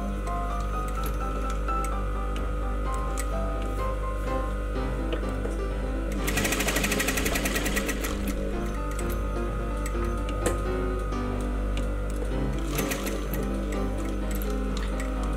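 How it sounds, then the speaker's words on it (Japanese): A sewing machine runs steadily as it stitches around a bound buttonhole on bias-cut fabric, with a fast, even mechanical whir that grows louder and more rattly in two short bursts. "生地伸びないように注意しながら端まで縫って、 ぐるっと一周縫います。"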